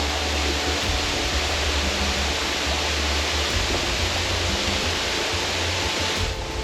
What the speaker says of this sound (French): Nous voilà devant Anaï Waterfall, la cascade de Anaï.